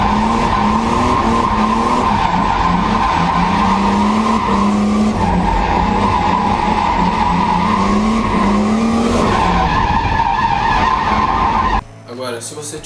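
A drifting car's tires skid and squeal continuously at steady engine revs, loud and sustained, with a strong tonal screech over engine roar, ending abruptly near the end.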